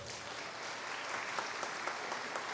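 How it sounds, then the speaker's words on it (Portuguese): A faint, steady round of clapping rises from a church audience at a Catholic Charismatic Renewal leaders' gathering, even and continuous with a few sharper claps standing out. "salve de palmas"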